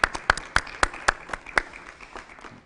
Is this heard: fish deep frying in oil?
no